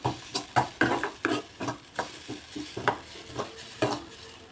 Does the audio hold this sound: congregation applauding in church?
no